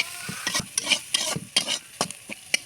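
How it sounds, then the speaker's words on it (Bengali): Chopped onions frying in a pan, with a utensil stirring them in quick repeated scraping strokes over a soft sizzle, close and clear, with no talking. "পেঁয়াজটাকে ভালো করে ভেজে নেব।"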